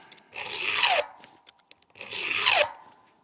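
Two long rasping strokes of a file across the teeth of a chainsaw chain, close and fairly loud, separated by a pause with a few small clicks, no speech.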